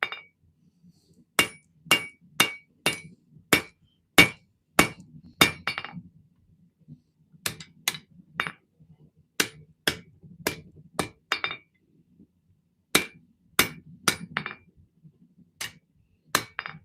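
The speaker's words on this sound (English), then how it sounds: "When you see that big bounce up, it's I hit more of the anvil than the metal." Hammer blows ring out on hot metal and a nearly 200-year-old anvil during forging in a home shop, sharp bright clangs in steady runs of five or six strikes with short pauses between.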